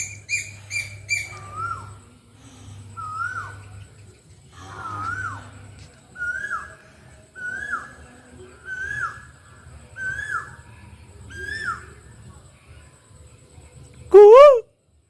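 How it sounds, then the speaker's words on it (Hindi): Asian koel calling in mango season, a repeated series of rising whistled notes, about eight calls at a steady rhythm, fairly near and clear, with some chirps from other birds at the start and a sharp loud call at the end. "आम का समय है, कोयल की आवाज़ सुनिए"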